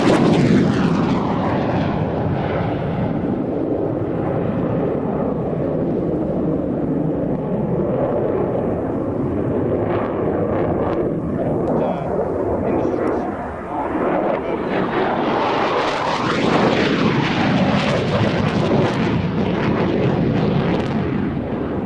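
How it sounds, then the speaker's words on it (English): F-4 Phantom jet making a pass at an air display: a sustained loud roar that builds and sweeps overhead with a rising, shifting tone, continuous for the whole stretch, with crowd or commentary voices faintly underneath. "Right now, though, here's the F-4 Phantom."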